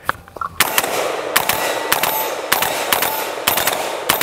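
An AR-15 with a Franklin Armory binary trigger fires a series of sharp, loud gunshots, spaced in quick pairs and singles over about four seconds, ringing outdoors.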